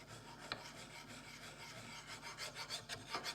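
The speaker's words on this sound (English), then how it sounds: "Remember, this cast iron will file very rapidly." A file rasps against the cast iron body of a Stanley plane being converted to a scrub plane, with quiet, close, rhythmic strokes that grow more regular toward the end.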